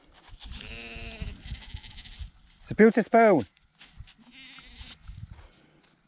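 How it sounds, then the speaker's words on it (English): Sheep bleat outdoors in loud, wavering calls, a long bleat first, then two sharp overlapping cries mid-clip, with a fainter call after; someone talks in between. "I've got a disagreement out here from the sheep"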